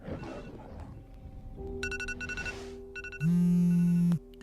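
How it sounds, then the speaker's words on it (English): An alarm goes off with a bright, repeating electronic ring that builds into a loud, steady beeping tone, then cuts off abruptly. "You set that alarm last night."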